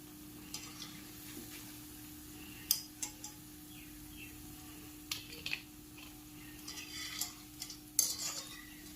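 Crispy cabbage pakoras frying in hot oil as they are lifted out, a faint steady sizzle broken by scattered metal scrapes and clinks from a utensil against the pan.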